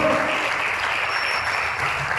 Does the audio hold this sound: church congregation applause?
yes